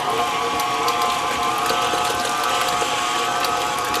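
Stand mixer steadily kneading gluten-free bread dough made with teff flour, yeast water drizzled in, giving a continuous loud mechanical whir with ratcheting clicks and no talking.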